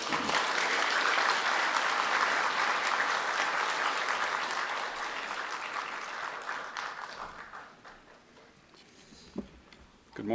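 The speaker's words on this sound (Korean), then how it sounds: "나오실 때 힘찬 박수로 모시겠습니다." Congregation applause at a church ordination service welcoming an interpreter to the front, loud dense clapping that gradually thins and fades over several seconds, leaving scattered claps and faint movement.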